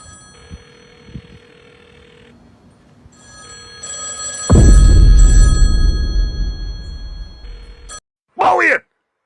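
A telephone rings faintly in a repeating pattern before a loud burst of noise takes over, with a brief voice at the end.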